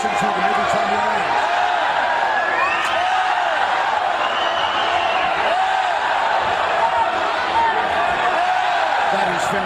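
A large crowd roars and cheers continuously at a Muay Thai bout in Bangkok, a dense loud wash of voices with a commentator talking over it.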